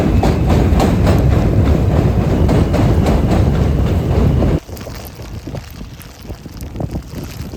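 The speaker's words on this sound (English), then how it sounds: "let me know what kind of train this is" A New York City subway train rumbles past loudly during a snowstorm, a dense low roar with rhythmic clattering that cuts off abruptly partway through, leaving quieter rattling and wind noise.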